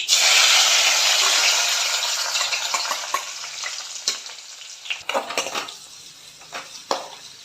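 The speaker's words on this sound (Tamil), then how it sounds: "வெங்காயம் போட்டாச்சு. இது நல்லா வதக்கிக்கலாம்." Onions sizzle and fry in hot oil with mustard seeds in a pan, a loud steady hiss at first that gradually fades, broken by scattered clinks and scrapes of a stirring spoon.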